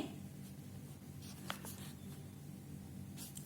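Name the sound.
pen or pencil drawing a line on paper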